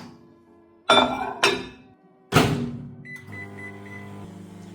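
A microwave oven in a home kitchen heats ground beef. A few loud clunks and clicks, likely the door shutting and the controls being set, are followed by a run of beeps and then a low, steady hum.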